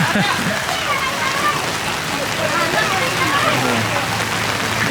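Steady storm rain falling hard on a surface at an outdoor market in Thailand, a dense continuous hiss and patter throughout, close and loud.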